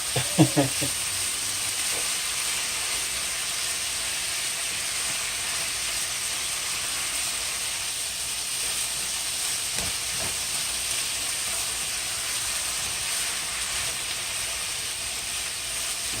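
Chicken and bitter melon stir-fry in a pan with a continuous sizzling hiss, a few stirring clanks at the start and again midway; close and steady, with no talking.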